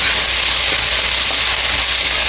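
Cooking oil sizzles and hisses steadily and loudly in a pan while ingredients for a dried fish and eggplant curry fry, with no talking.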